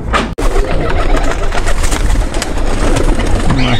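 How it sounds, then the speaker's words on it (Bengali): Imported red-eyed pigeons in a loft coo and flutter in a dense, continuous flock chorus with a sharp knock near the start; a voice is faintly present. "এখানেও কিছু কবুতর রেস্টে রাখা আছে"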